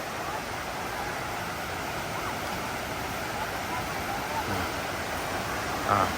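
Than Thong waterfall in Thailand, a steady broadband rush of falling water filling the whole scene at constant level, close and continuous with no break.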